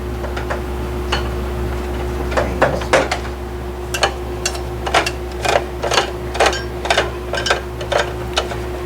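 Screws are driven into a Dell Optiplex 755 computer case, giving a series of sharp, regular ticking clicks at close range over a steady low hum, with no talking.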